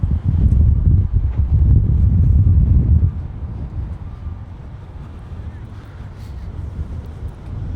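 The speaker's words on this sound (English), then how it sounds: "That's some wind." Strong wind buffets the microphone outdoors near the water in Belfast, Ireland, a loud low rumbling gust for the first three seconds that then eases into a steadier, softer blowing.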